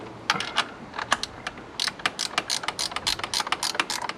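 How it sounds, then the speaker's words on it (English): A hand ratchet clicks quickly and steadily while tightening a bolt on a Subaru Forester, close and crisp. It begins sparse and then speeds up into dense bursts over a quiet garage background. "Definitely use a ratchet."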